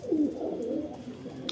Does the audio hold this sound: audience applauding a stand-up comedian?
no